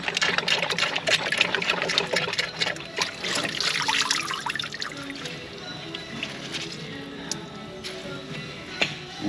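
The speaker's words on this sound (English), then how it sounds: "Just kind of squeeze and wring it out a little bit" Water is squeezed and wrung from a cloth, close trickling and dripping with spattering bursts that taper off into scattered faint drips.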